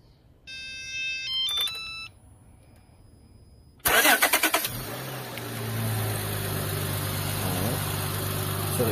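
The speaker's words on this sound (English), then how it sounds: "So I'm just gonna remote start the car." A car with an overheating engine starts by remote start: electronic beeps and a chime come first, then a loud crank and catch, and the engine settles into a steady idle.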